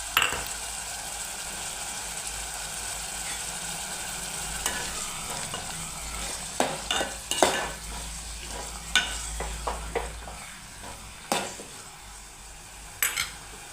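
Green onion, tomatoes and chilies frying in a pan for bharta, a soft steady sizzle with a cluster of sharp spoon scrapes and clinks against the pan partway through.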